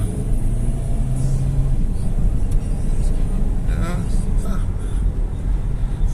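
An SWM Go 1 F Premium car accelerating on an intercity road, engine drone and road rumble rising steadily beneath someone talking.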